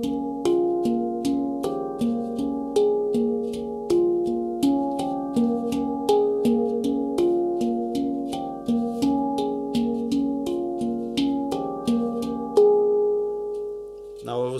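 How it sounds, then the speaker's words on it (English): A handpan played alone, tones rising up the top shell with low bottom notes added in a steady repeating pattern, close and clear with ringing sustain. "I could also play just up, right? I add the bottom notes."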